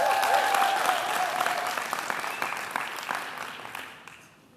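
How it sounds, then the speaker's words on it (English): Graduates applauding at a university human rights centre ceremony, a dense, steady crowd of clapping that slowly thins and fades out at the end. "I would now like to ask our graduates to applaud their families, friends, and spouses for their support over the years."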